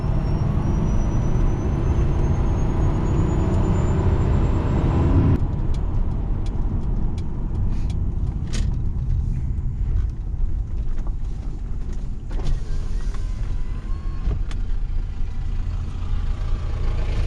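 A 1996 Lincoln Town Car engine pushed to full throttle while driving off-road, a loud steady roar that drops sharply as the transmission shifts, followed by rattling and knocking from rough ground.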